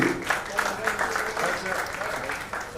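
Applause from a crowd at a live press conference for a 90th birthday concert, a steady patter of clapping running through the whole short stretch with voices mixed in underneath.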